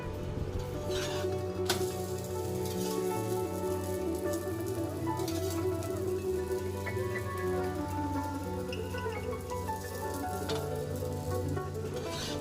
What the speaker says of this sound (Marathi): त्यावर थोडंसं तूप घालून दोन्ही बाजूने पुरणपोळी खरपूस भाजून घ्यायची